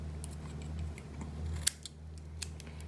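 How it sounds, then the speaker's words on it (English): Scissors snip through cotton wick being trimmed for a vape rebuildable tank atomizer, a few crisp close cuts, one sharp snap standing out over a low steady hum. "I'll cut that right there, and I'm going to cut it where the base is on this side."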